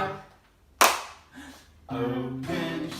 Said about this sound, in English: Give a little clap.